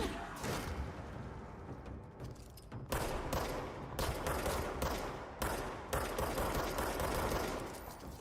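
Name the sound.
gunfire from the video game Control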